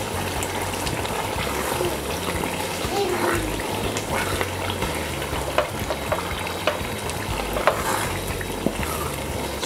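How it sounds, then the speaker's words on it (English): Shito hot black pepper sauce with hot chili and dry smoked fish sizzles and frys in a pot while being stirred, a steady crackling bubble with occasional louder scraping strokes, fairly quiet throughout. "I'm going to add my dry smoked fish."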